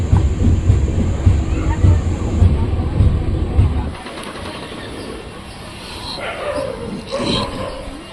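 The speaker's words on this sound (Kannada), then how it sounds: "ನಮ್ಮ ಟ್ರೈನ್ ಈಗ ತಿಪ್ಟೂರು ರೈಲ್ವೆ ಸ್ಟೇಷನ್ಗೆ ಎಂಟ್ರಿ ಆಗ್ತಿದೆ" Train pulling into Tiptur railway station at platform two, a heavy close rumble for the first few seconds that drops away to a quieter background with voices and a few sharp yips.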